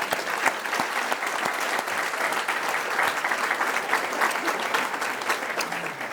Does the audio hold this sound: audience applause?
yes